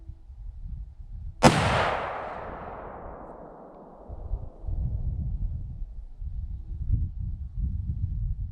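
A Ruger M77 rifle fires a single loud, sharp shot while being sighted in at a range, its report decaying into a long rolling echo, with low background rumble before and after.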